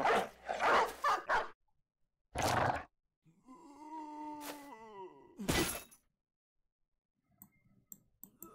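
A dog barking in the video game Battle Brothers: several short, sharp barks and a drawn-out whining cry, separated by brief silences, with faint clicks near the end.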